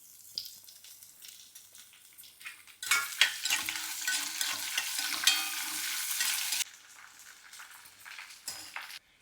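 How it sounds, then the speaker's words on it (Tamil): Onions sizzle quietly in a pan while a utensil stirs and scrapes. The frying swells louder for a few seconds in the middle, then settles back down. "வெங்காயம் ஓரளவுக்கு நல்லா வதக்கிட்டோம்"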